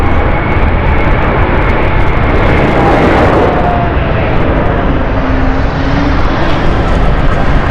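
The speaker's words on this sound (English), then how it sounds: "So the Zurich flight, which is just coming right now" A Swiss flight from Zurich arrives with a loud, continuous jet roar that holds steady throughout, joined by a faint whining tone partway through.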